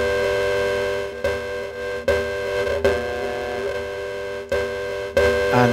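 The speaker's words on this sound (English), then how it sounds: "And then we have ring modulation." Ring-modulated synth tone from the Sylo synthesizer app for iPad: a buzzy, metallic sustained pitch with wobbling overtones, retriggered every second or so, loud and alone.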